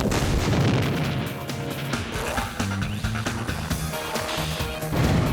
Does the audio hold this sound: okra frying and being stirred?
no